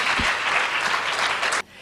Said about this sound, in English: And yes, you can applaud that.